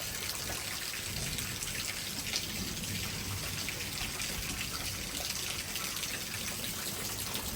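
Heavy rain pours down in a front yard during a severe thunderstorm with gusty winds, a dense, steady hiss of downpour and drips that continues without a break, fairly faint and alone.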